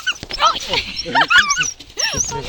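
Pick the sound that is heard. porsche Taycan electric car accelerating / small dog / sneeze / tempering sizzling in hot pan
small dog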